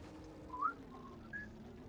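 A lone person whistles a short tune imitating the Old Spice jingle, a few faint, thin notes over a quiet background hum.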